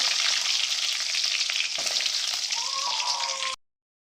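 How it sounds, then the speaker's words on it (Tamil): Small onions fry in hot oil for a brinjal tamarind curry, a steady loud crackling sizzle with a brief stirring scrape midway, cutting off abruptly near the end. "இப்போ இதில் நல்லா பொரிஞ்சு வந்ததும் நம்ம சின்ன வெங்காயத்தை போட்டுடலாம்"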